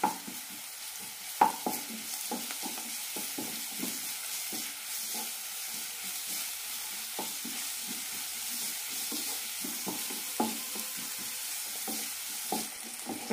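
Garlic-ginger paste fries in a pan, a soft continuous sizzle broken by repeated spoon scrapes and taps that stir it at an uneven, steady pace, close and moderately quiet, with no voices.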